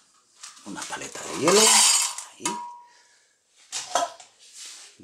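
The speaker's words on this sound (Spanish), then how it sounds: "al vaso de la batidora. Vamos a echarle una paleta de hielo." A scoop of ice is tipped into a blender jar for a piña colada, giving a short burst of rattling, clinking cubes on glass followed by a few lighter clinks, with a person speaking briefly in between.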